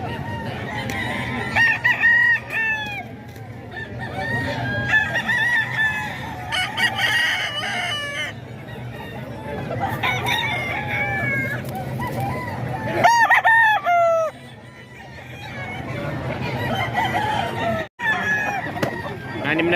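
A gooseberry gamefowl rooster crows repeatedly in loud, rising calls over a busy outdoor yard, with other birds clucking and crowing nearby throughout.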